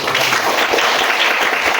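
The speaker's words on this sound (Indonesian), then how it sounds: "Tepuk tangan" Applause at the close of a school lesson, a short burst of dense clapping that holds steady throughout at moderate loudness with no speech over it.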